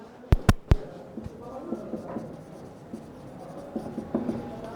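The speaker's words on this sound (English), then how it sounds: "draw a circle and write the heading of the chapter" A pen writes and draws a circle on paper with soft, irregular scratching strokes close by, following a few sharp taps at the start.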